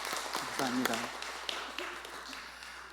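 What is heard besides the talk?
audience applause for children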